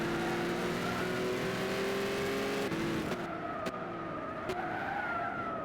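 A Dodge Viper race car in Gran Turismo 6 roars loud and close at high revs, the engine pitch sliding downward as it brakes hard, with a brief tire scrub near the end.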